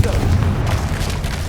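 A Confringo blasting spell detonates in Hogwarts Legacy, a loud, deep boom that fills the whole clip with a rumbling blast and a long, heavy tail.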